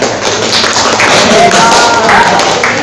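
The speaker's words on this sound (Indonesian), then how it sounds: "Tepuk tangan." Children in a classroom clap their hands together for a classmate, a quick, close burst of claps lasting a couple of seconds with some rhythmic taps.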